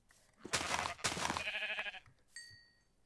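A couple of short sheep bleats ring out in a modded survival video game, followed by a soft electronic chime, game-like and fairly clear against a quiet background.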